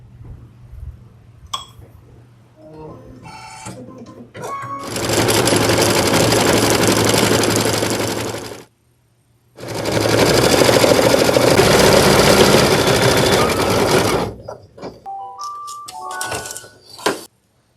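An embroidery machine stitches freestanding lace in black thread for a knit tunic. Two long runs of steady, loud mechanical whirring are split by a short pause, with soft beeps and clicks before and after.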